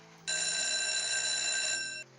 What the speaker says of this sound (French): La sonnerie sonore.